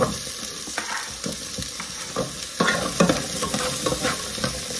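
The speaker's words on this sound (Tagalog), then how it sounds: "Tapos gigisahin lang natin ito kaunti." Squash and the firm white parts of green onion sautéing in a pan, with steady frying sizzle and repeated scraping stir strokes of a utensil, close and moderately loud, no talking.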